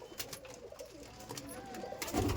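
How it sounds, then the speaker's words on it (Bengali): Black-green pigeons in a loft give soft, low cooing calls at close range, faint against a quiet background and building slightly toward the end. "দেখুন পায়রাগুলো দেখুন, কত সুন্দর সুন্দর কালা সবুজ পায়রা।"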